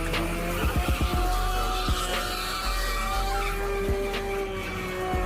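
A car slides and skids on an Atlanta street, its tires squealing in drawn-out screeches over a revving engine, with a few sharp bursts near the start and the noise holding loud and close.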